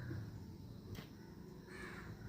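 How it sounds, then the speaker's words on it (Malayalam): A crow passing overhead gives a couple of rough caws, one short and one drawn out, faint and distant over a low outdoor hum on a quiet morning. "ഒരു കാക്ക അതുവഴി പോകുന്നുണ്ട്."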